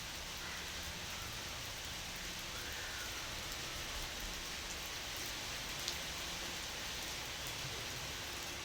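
Heavy rain falls in a village, making a steady, dense hiss that stays even and unbroken throughout, with no voices over it.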